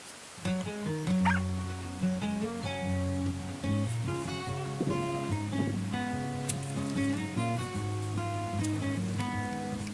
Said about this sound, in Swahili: Mbwa nazo zilizidi kumshanga kama tunavyoona mtazamaji